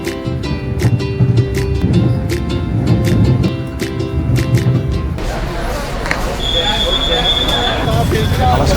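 A passenger train in Indonesia runs along the rails with a steady, loud rumble and repeated clacks from the wheels over track joints, and a high squeal from the wheels rises in the later part.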